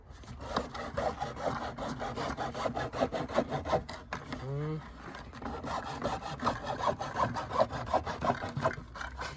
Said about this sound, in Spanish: Después lo voy a cortar con la cegueta.